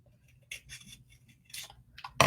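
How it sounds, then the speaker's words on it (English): Scissors snip through a cardboard egg carton in a few short, close cuts, separated by quiet gaps and ending with a louder rustle. "So I'm gonna cut off this awkward bottom part."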